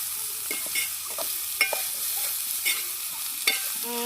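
Broad bean curry with salt being stirred in a pan on a wood-fired stove, with repeated close scrapes of the spoon over a steady sizzle.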